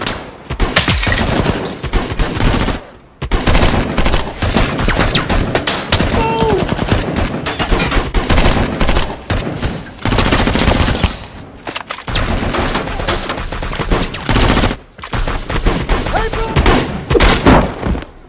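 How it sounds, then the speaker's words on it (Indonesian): Sustained gunfire exchange between police and bank robbers in a 2023 action film, with dense bursts of automatic fire and rapid shots crackling loudly over a busy score, broken by brief lulls. "Baku tembak-tembak pun terjadi antara kedua belah pihak dengan sangat menegangkan"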